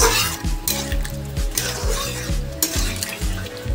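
Prawn curry gravy with potatoes bubbling in a pan for Bengali chingri kosha, a continuous close sizzle with repeated rhythmic stirring scrapes and occasional utensil clinks, no talking.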